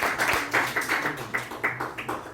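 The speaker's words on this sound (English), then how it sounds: "Give him a round of applause." A small audience at a youth leadership program event applauds, a fairly quiet clapping that rises and falls in rhythmic bursts without speech.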